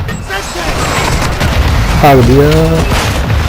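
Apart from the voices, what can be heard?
grenade explosion in video game Call of Duty: Modern Warfare 2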